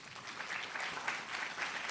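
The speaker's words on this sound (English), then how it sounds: "May we give them a round of applause" An audience at a Malaysian exhibition opening ceremony applauds for ambassadors, a short continuous wash of clapping at moderate volume.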